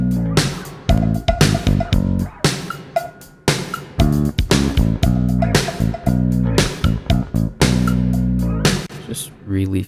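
Deep, warm passive bass guitar notes play a plucked, rhythmic line with short gaps, full and round in tone, loud and close.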